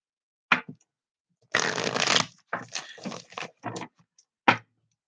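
Tarot cards are shuffled in short, close bursts of riffling and flicking, with brief pauses between the separate handfuls.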